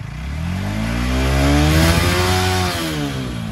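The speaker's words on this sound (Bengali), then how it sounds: "একটু পিক আপ দাও।" A modified Apache RTR 4V motorcycle engine with a quick throttle revs up close by, pitch climbing through a sustained, loud rise around the middle, then holding and easing as the throttle settles.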